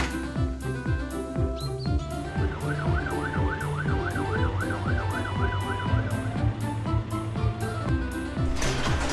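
A cartoon fire truck siren wails with a steady rising-and-falling tone over a rhythmic clanking and a low engine hum, fairly loud and continuous.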